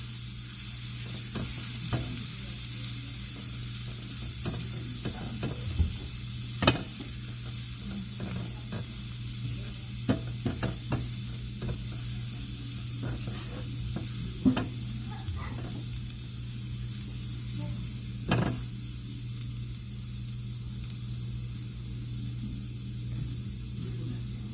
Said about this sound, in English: we're going to saute up this garlic